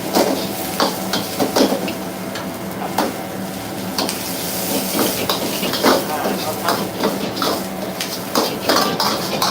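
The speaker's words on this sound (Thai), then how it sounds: "มีผักอะไรก็ใส่ลงไปผัด" Vegetables get stir-fried in a pan for Persian-style Thai rad na noodles, with repeated metallic scrapes and clanks of a utensil against the pan over a steady sizzle, close and busy throughout.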